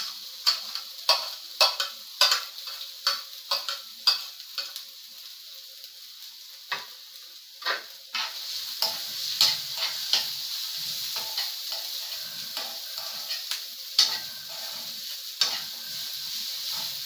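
Finely chopped medium onion frying in oil with ginger and garlic for a Kerala fish ularthiyathu, a steady sizzle under repeated sharp scrapes of a spoon stirring the pan, scrapes dense early then thinning out.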